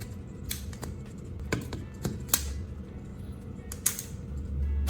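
A utility knife cuts and pries the plastic cover off an LED bulb, producing sharp scattered clicks and snaps at irregular intervals over a quiet background, close by and fairly faint.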